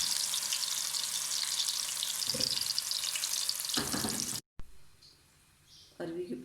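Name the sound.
browning taro leaf pieces in a pan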